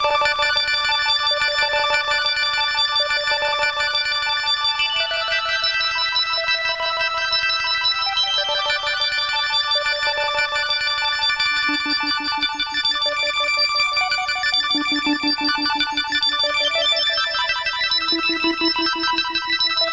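Yamaha DJX keyboard sampler playing an arpeggiated synth pattern, loud and continuous with steady repeating tones and a shifting lower line, alone without talk.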